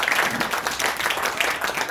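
Congregation applause at a youth and teen church retreat worship service, a full room clapping steadily and loudly with slight swells, no voices over it.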